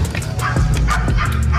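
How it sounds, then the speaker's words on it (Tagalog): A dog barks and yips repeatedly in quick bursts nearby, loud over a steady low background hum outdoors. "Ingay ng aso."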